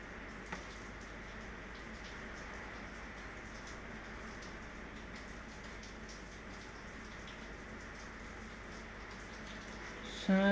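Steady soft rainfall in the game Hogwarts Legacy, a continuous quiet patter with an even texture throughout and a brief louder sound at the very end.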